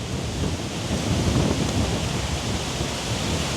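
Strong wind rushes over rice paddy fields in a rural village, making a loud, steady broadband roar that buffets the microphone throughout, with no speech.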